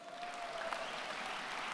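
A crowd applauds steadily at a high school graduation ceremony, a dense, even wash of clapping from a large audience with no break.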